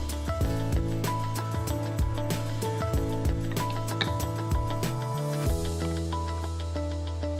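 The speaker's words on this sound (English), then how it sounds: "one of the Allen wrenches will tighten this down on the post on the back of the shoulder pad" An Allen wrench tightens a set screw on a counterweight, securing it to the post on the back of a camera rig shoulder pad. Small metallic clicks and scrapes come at close range over a steady low mechanical hum.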